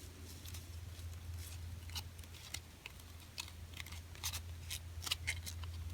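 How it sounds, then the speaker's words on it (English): Paper is folded for a handmade Father's Day card, with faint, close crinkles and soft creasing taps scattered irregularly over a low steady hum. "Now I'm going to fold the tip."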